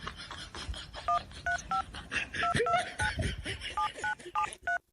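Telephone keypad tones dialing a number, a quick run of about a dozen evenly spaced beeps over background noise and faint voices.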